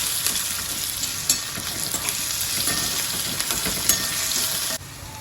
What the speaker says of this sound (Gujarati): તો કાંદા સડી ગયા।